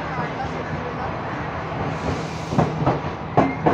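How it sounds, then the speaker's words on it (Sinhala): An express train bound for Colombo Fort arrives at a crowded station platform in Kandy, Sri Lanka, a rumbling rail drone with clanks and knocks near the end, under indistinct crowd voices. "දුම්රියක් පැමිණෙනු කොළඹ කොටුව දක්වා ගමන් ගන්න අධිවේගී දුම්රිය පැමිණෙනවා"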